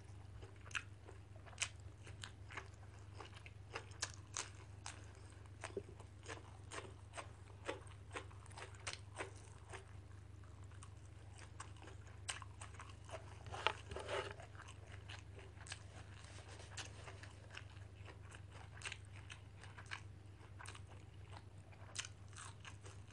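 Crunchy food chewed close up while eating Thai fermented fish dip (pla daek jaew), with many crisp irregular bites and crunches over a steady low electrical hum; no one talks.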